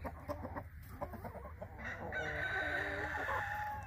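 Roosters at a coop crow close by, one long drawn-out call rising over a background of clucking hens and farmyard bustle.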